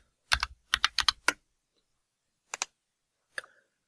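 Computer keyboard keys pressed in a quick burst of clicks, then two short isolated presses, crisp and close with silence between and no talking.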